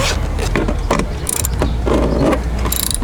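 A hand ratchet loosening size 10 bolts on the door panel of a 2013 Lincoln MKS, making close, loud clicking in short quick runs between pauses.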